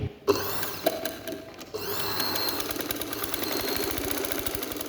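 A sewing machine runs along the edge of a frock, starting with a few clunks and then settling into a steady, rapid mechanical stitching rhythm, close and continuous with no talk.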